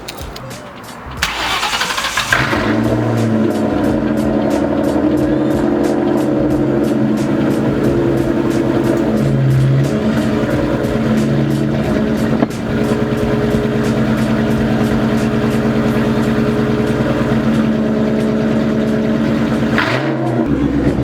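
A car engine cranks and catches after a brief pause, then idles and revs loudly and steadily for about twenty seconds, cutting off abruptly near the end.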